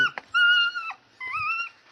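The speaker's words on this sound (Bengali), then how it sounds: "সাইডে একটা কুত্তা ছিল," A dog whimpers or whines nearby in two drawn-out, high-pitched cries with a brief pause between them, heard on its own without talk.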